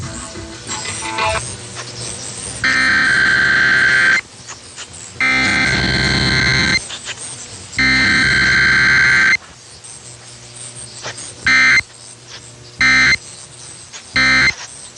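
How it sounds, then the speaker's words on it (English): Loud Emergency Alert System attention tones on KDKA radio in Pittsburgh, three long steady electronic blasts followed by several short bursts, heard alone with no talking. "The following is a test of the emergency alert system."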